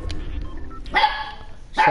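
A dog barks in two loud, close bursts against a rumbling background, with an outdoor scene and a person nearby.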